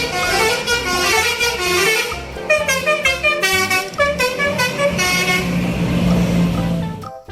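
A toy bus telolet horn honks in a run of bright, melodic musical toots, fairly loud and continuous, with no voices over it.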